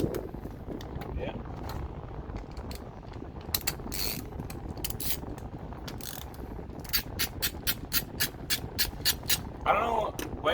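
A ratchet with a 1/2 inch socket works a bolt on the carburetor of a 1980s lawn mower, with bursts of rapid clicking that quicken into a steady run of sharp clicks near the end, and a voice talks quietly.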